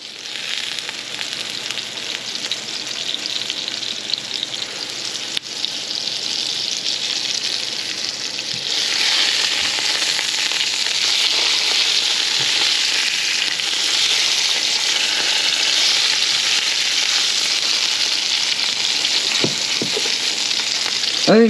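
Halibut frying in a pan gives a loud, steady sizzle close up. The sizzle grows stronger partway through and is broken by a few faint knocks.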